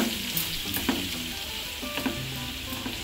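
Curry mixture for Andhra hotel-style poori kura fries in a pan with a steady, close sizzle, broken by a few sharp clicks and scrapes of stirring, with no voices.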